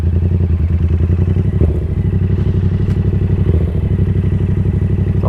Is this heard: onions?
no